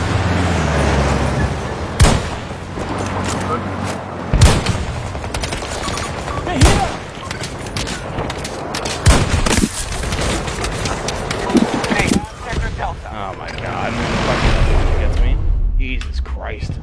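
Gunfire in the shooter game Battlefield 2042, with rapid automatic bursts and sharp single shots cracking steadily throughout, several loud heavy blasts standing out, and voices talking over the fighting.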